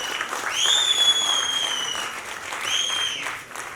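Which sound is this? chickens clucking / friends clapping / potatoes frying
friends clapping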